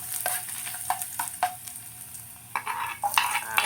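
Garlic sizzling in hot cooking oil in a pan, a steady hiss broken by scraping stir strokes at irregular intervals, close and fairly loud with no talking.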